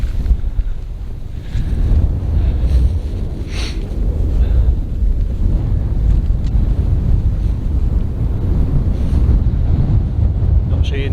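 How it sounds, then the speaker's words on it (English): Wind gusting across an exposed moor top in the North York Moors, a loud, steady roar buffeting the microphone with rising and falling blustery surges. "That breeze does just get up a little bit the further onto the top you come."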